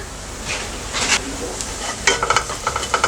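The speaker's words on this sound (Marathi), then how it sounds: "कांदा चांगला फ्राय करून घ्यायचा आहे।" Chopped onion sizzles in hot oil with chili powder and turmeric, a steady close frying hiss with a spoon stirring and scraping the pan in quick clinks, no voices.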